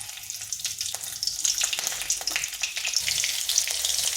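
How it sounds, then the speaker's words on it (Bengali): Nigella seeds and slit green chilies crackle and sizzle in hot oil in a pan for a katla fish jhol, a dense, continuous frying hiss close up with no talking. "তেল গরম হয়ে গেছে, এখানে দিচ্ছি কালো জিরে আর দিচ্ছি 3টা চিড়ে করে কাঁচা লঙ্কা"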